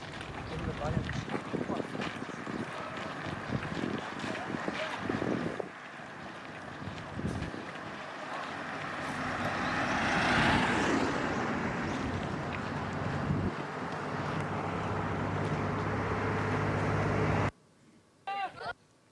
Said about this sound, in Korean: 트럭들이 속도를 내며 쌩쌩 지나갈 때 그 바람과 소음은 엄청났습니다